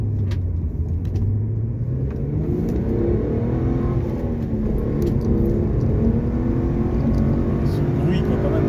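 A Hyundai Coupe V6 FX in stock form revs its engine, a loud, close, continuous drone whose pitch climbs and falls in smooth sweeps for the whole stretch.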